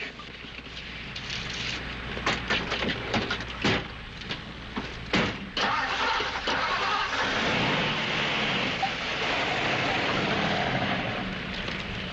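A car on a highway drives off, its engine running steadily with a few door-like thumps and knocks early on, then a continuous mid-pitched engine drone, fairly loud and without talk.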